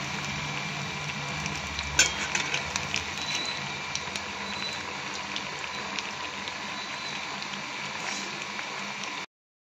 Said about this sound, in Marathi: आता आपण हे वडे दुसऱ्या बाजूनेही व्यवस्थित तळून घेऊया